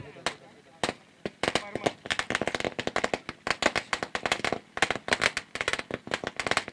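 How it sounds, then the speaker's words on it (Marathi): Firecrackers go off in a dense, rapid string of loud sharp bangs and crackles, near and continuous, to welcome players at a village cricket tournament final. "फटाक्याच्या आतषबाजीमध्ये स्वागत केले जाते आणि फटाके लावतोय कोण"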